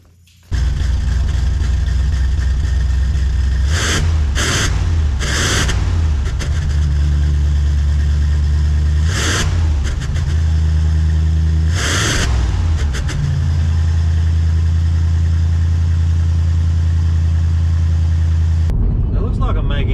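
A 1988 Cadillac Brougham engine with a new exhaust and muffler starts and runs with a loud, steady low rumble, revving up sharply several times before cutting off near the end.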